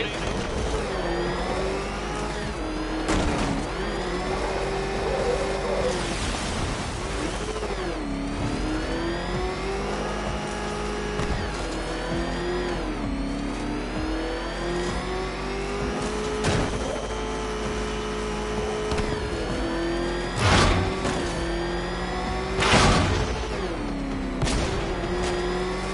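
A car engine revs in a video game, a loud, continuous drone climbing and falling through shifts, with sharp bursts and thumps cutting across it throughout.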